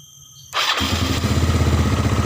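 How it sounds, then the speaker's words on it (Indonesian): A motorcycle starter motor, wired straight to the battery's red cable, kicks in abruptly after a short quiet moment and whirs loudly and continuously with a fast, even pulsing rhythm. Nothing else is heard. "Berarti kalau bunyi seperti ini berarti di daerah dinamo starter aman"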